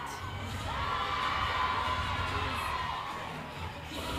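A crowd at a YAIAA cheerleading championship cheers and whoops steadily throughout, a dense, sustained roar of voices with children's shouts mixed in, loud and continuous without a break.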